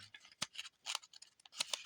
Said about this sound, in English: I'm hoping to get this page turned.